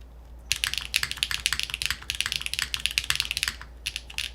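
Typing on a Stratum-80 mechanical keyboard with a medium gasket and no foam, a fast, close run of crisp keystroke clicks with louder spacebar hits, steady over several seconds without talk.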